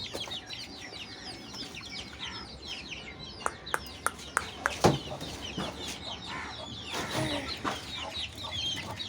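Chickens cluck and chatter continuously, with a few sharp knocks and thumps partway through and a louder burst of clucking near the end.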